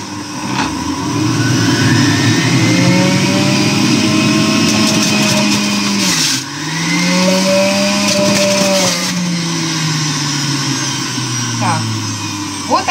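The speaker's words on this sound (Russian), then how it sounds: "я решила продолжить все-таки выжимать этой соковыжималкой." An electric juicer presses pears, its motor droning loudly and close with a shifting whine that dips briefly midway before resuming at full strength.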